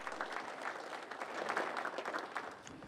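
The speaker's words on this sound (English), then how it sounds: "let's give Matt a round of applause" Audience applause for a panelist at an agriculture summit session, a soft, fairly distant patter of clapping hands that stays steady and even for the whole few seconds.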